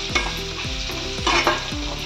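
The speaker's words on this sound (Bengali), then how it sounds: "পেঁয়াজটা ভাজা হচ্ছে," Onions fry with a whole cardamom pod and salt in a pan for egg biryani, with rhythmic spatula scrapes every half second over a soft, continuous sizzle. No voices are heard.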